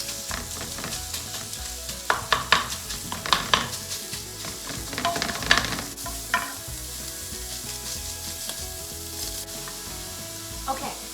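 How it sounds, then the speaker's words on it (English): Breakfast sausage sizzles steadily in a frying pan while a utensil scrapes and breaks it apart in bursts of stirring, close and continuous. "Now we're just gonna break it up and get it all fried up."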